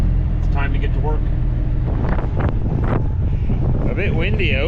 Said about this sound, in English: A bit windy out, but the trailer's unloaded